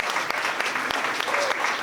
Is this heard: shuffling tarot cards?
no